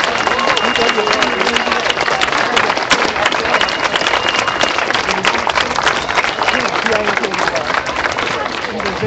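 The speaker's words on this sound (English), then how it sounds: "If you want justice, clap your hands." Outdoor rally crowd at City Park in Denver claps hands steadily and loudly throughout, a dense continuous wash of applause mixed with cheering and background voices.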